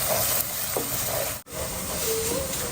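Ginger garlic paste sizzles and hisses steadily in hot oil for a chicken curry, a close, continuous frying crackle with a brief stir break midway.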